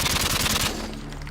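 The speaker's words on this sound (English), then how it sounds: "I will fire it into the square. I'm going to empty the whole clip" An UMP submachine gun in MW2 Remastered fires a rapid sustained burst, emptying the magazine in a fast stream of loud close shots that stops abruptly partway through, leaving a short fading tail.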